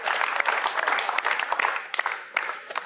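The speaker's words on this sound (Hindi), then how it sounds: "जोरदार तालियों से स्वागत करें अरुण जैन" An audience welcomes a speaker with a sustained burst of lively applause, dense overlapping claps crackling steadily and fairly close throughout.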